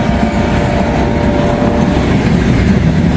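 A short transfer train rolls past on railroad track near a grade crossing, a steady, loud rumble of wheels and cars holding level throughout with no talk.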